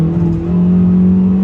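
A 2023 Kia Soul GT-Line Limited in sport mode accelerates at full power, giving a steady, loud engine drone that holds close and even throughout the short stretch, with no voices.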